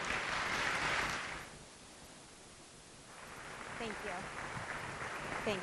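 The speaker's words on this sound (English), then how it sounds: "Let's give a round of applause to Melissa Dome-Hill." An audience gives a round of applause at a benefit event for the DVCAC, dense clapping swelling, dipping in the middle, then returning with voices mixed in.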